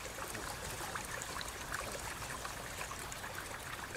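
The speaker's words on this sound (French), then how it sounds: "L'eau s'infiltre toute l'année. Elle sort en bouillonnant et passe ici, comme vous le voyez." Natural mountain spring water bubbles out of the rocks at Kirstenbosch garden in Cape Town, making a steady, close, hissing rush of flowing water with no pauses and no voices.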